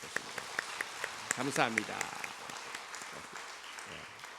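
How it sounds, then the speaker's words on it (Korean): A church congregation claps for a young member after a communion blessing, scattered distinct claps under a brief spoken phrase, thinning out toward the end. "박수 한번 보내주시면 되겠습니다."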